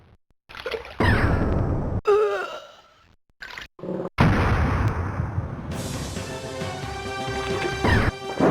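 Fire bolts firing in Alone in the Dark, a series of loud whooshing, crashing bursts separated by short silences, with a long roaring blast near the end.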